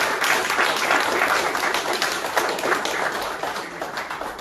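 A church congregation applauding together, dense and sustained clapping that stays loud throughout and tapers slightly at the end, with no voices standing out.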